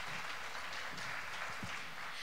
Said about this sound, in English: We have another round of applause, please.